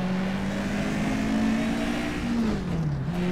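A race car engine in the rFactor 2 racing game, IMSA old-school class, holding a loud sustained rev before the pitch drops on a shift, continuous and close throughout.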